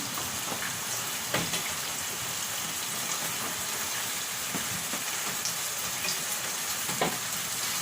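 Beef pieces hiss and sizzle steadily in a hot pan, a dense crackling frying noise with a few soft clicks of stirring, close and continuous with no talking.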